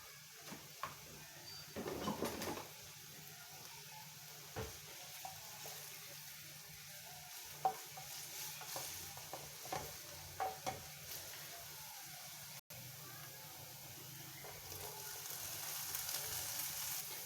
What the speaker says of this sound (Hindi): हल्की सी गाजर होने के बाद आप करेंगे इस मेवे को ऐड और उसको भी सौते कर लेंगे